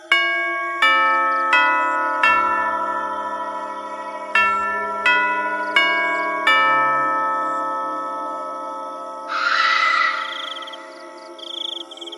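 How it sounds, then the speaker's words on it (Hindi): A melodic multi-tone doorbell chime rings loud and close, its notes struck one after another and ringing out, followed by a brief burst of noise. "करीब आधे घंटे में रोहन के कमरे की घंटी बजती है।"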